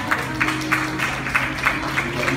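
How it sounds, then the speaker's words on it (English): Audience applause at an 18th birthday celebration, a steady wash of clapping with regular louder surges under a faint hum, moderately close and without talk. "Let's give them a louder round of applause."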